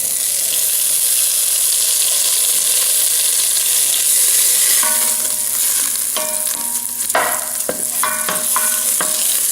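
Butter hits a very hot frying pan with a loud, steady sizzle and hiss, then scattered clinks and scrapes of utensils join in the second half, no talking.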